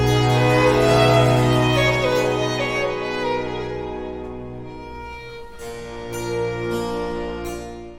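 Bach's Brandenburg Concerto No. 3, second movement: two sustained string chords with violin improvisation, a rich held ensemble sound slowly fading, with a few brighter bowed accents near the end, purely instrumental.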